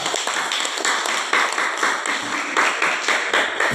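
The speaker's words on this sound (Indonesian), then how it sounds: "Terima kasih tepuk tangan untuk yang ketiga itu." A group at an academic supervision coaching session applauds, steady dense hand clapping from several people filling the whole stretch with no talking.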